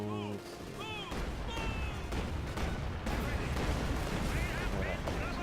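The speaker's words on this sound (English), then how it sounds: "our artillery just came by" Artillery barrage from the Company of Heroes 2 Scorched Earth campaign, a sustained low rumble of shellfire with scattered sharp bursts under game voices and music.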